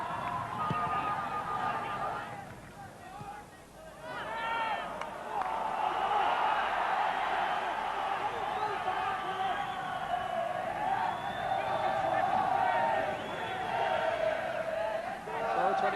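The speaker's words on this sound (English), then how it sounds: "Glentoran crowd patiently waiting," Glentoran football crowd in a stadium during a match, a steady wash of many voices, chants and cheering that swells and holds loud throughout, with a commentator-style voice and crowd noise blending together.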